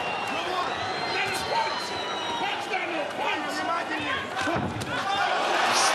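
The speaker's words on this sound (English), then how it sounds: "got the crowd going here" Boxing arena crowd at Usyk vs Dubois roars and cheers steadily, a dense wall of voices with whoops rising above it, while a commentator talks over the noise.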